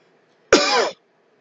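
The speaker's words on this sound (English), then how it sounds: "Well, you were coughing." One short, sharp cough in an otherwise quiet room, lasting under half a second.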